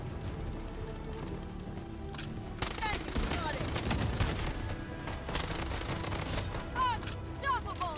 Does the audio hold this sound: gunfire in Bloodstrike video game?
yes